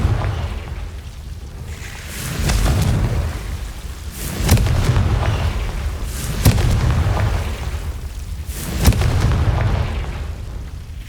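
Explosions from the Confringo fire spell in the video game Hogwarts Legacy land as deep, rumbling booms in a slow irregular series of about four, each swelling and fading against a steady low background.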